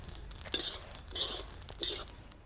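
Roasted sesame seeds scooped out of a pan over a wood-fired stove, three brief scraping, rattling swishes of a utensil against the metal, with faint room noise between.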